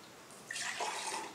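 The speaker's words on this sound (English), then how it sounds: "pour out the water" Water pours from a magic trick vase in a short, soft stream that swells and runs steadily for about a second, faint and close with no talking.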